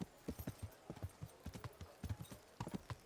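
Horse hooves clip-clop steadily at a brisk pace through a medieval town in the video game Kingdom Come: Deliverance, each footfall sharp and close, with a snort or whinny hinted and no talk.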